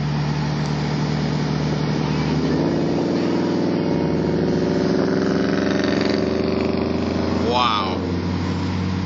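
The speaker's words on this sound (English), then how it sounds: "that's the best exhaust I've probably ever heard" Exhaust note of an Audi S5, a steady deep engine drone with a rise in revs partway through, heard close up with a brief voice near the end.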